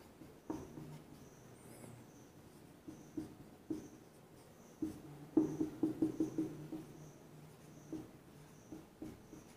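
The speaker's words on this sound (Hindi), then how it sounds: "हम परिणाम लिखते जाएंगे।" Chalk or marker strokes on a classroom board as probability results are written out, short scratchy taps in uneven bursts, a quick rapid cluster near the middle, close and fairly quiet with no talking.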